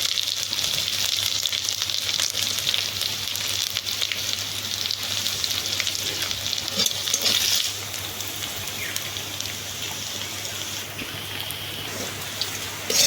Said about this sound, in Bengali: আদা রসুনটা সুন্দরভাবে ভাজা হয়ে গেছে